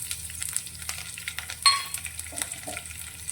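Green chillies hitting hot oil with crackling mustard seeds, a steady close sizzle with a sharper hiss burst midway and scattered pops and stirring clinks, no talk.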